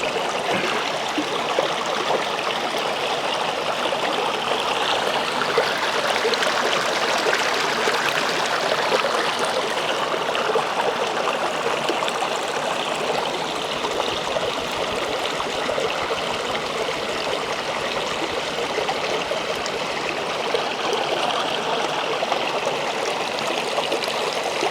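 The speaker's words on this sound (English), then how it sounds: "open this up and rinse this meat with some water, just to get that salt off of it." Running water rinsing salted dried beef, a steady continuous splashing stream that holds even and fairly loud throughout with no voices.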